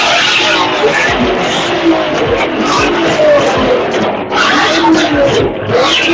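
Cars at a Houston car meet, with loud engines revving and tires screeching up close over a noisy background of crowd chatter and shouting.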